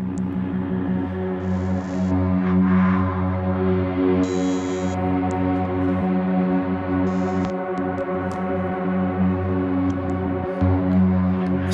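A long, sustained pitch-stretched synthesizer drone with a faintly vocal tone, steady and loud throughout, its layered harmonics holding without a break.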